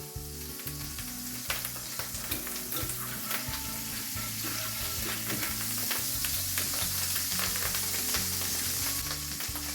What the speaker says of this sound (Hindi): इसके अंदर थोड़ा सा हम ऑलिव ऑयल मिक्स करेंगे ताकि हमारा बटर जो है वो जले ना।